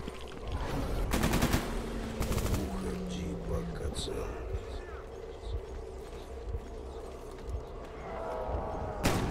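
Bursts of gunfire in the video game Stalker GAMMA, loud rapid automatic volleys mixed with single shots over a rumbling background, while someone talks urgently over them.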